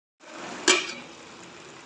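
A lid comes down on a cooking pot of beef aloo gosht simmering over medium heat, making a single sharp metallic clink over a soft steady bubbling hiss.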